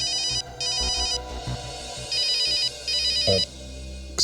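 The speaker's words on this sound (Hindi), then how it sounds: "डॉक्टर तारिका, अरे मैं आपके ही फोन का वेट कर रहा था।" A telephone in a Hindi TV crime serial rings with an electronic ringtone in repeated trilling bursts, each about half a second long and separated by short gaps, loud and close with no talk.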